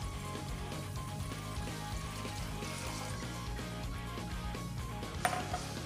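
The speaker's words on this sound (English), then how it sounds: "Put your half a cup of rice in a pot and then add your 3 cups of water." Water pouring into a pot holding half a cup of rice, a soft continuous trickle and splash, fairly faint, with a light clink of the pot near the end.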